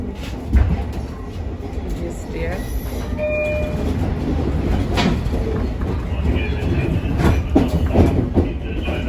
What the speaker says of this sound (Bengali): আজকে সেই লং আইল্যান্ডের ট্রেনে অততলা ট্রেনে উঠলাম